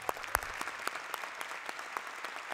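Audience applause at the opening ceremony of a Global Democracy and Development forum in 2012, a moderate continuous clapping with several distinct nearby claps popping out, and no voices.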